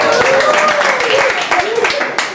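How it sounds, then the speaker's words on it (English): Audience at an introductory talk claps in a lively round of applause, many hands close and loud, with speech briefly heard over the clapping. "give another round of applause to Steve"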